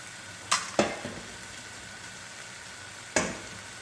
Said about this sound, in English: So we take the two eggs, yeah, and we break it.